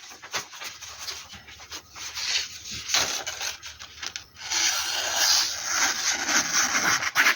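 A Bahco 2444 Mora Clipper knife shaves and scrapes wood in close rasping strokes, uneven at first and then a longer steady run of cutting, with no voices.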